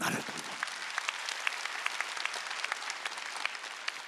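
Applause from a church congregation during a Sunday worship service, a steady patter of many hands clapping at moderate distance with sharp individual claps standing out, a faint voice underneath.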